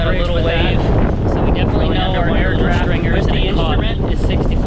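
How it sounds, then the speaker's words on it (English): Strong wind buffets a sailboat off the Bahamas, a steady loud roar across the whole stretch with microphone gusts and rushing air, while the boat's rigging and hull noise blend in underneath. "but the wind is still picking up out here."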